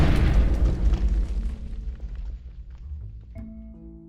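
A Skystrike blast in the ChromatiCraft Minecraft mod, a single loud booming explosion that opens the clip and rumbles, then slowly decays with tonal game effects ringing near the end, with no talk.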